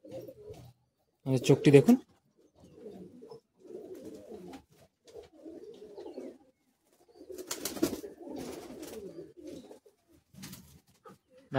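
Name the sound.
Madrasi high flying pigeons cooing in a loft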